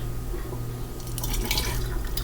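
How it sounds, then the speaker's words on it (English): Homemade brown sugar butter syrup poured quickly from a pot, a steady liquid pour with splashing and dripping that grows slightly busier toward the end, close by and moderately loud. "Sometimes you gotta just pour fast"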